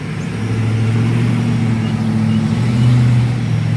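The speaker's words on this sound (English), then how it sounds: "that's a quiet truck, I think." A quiet truck driving past outdoors, a steady mid-level engine hum that swells slightly as it nears, with no talking.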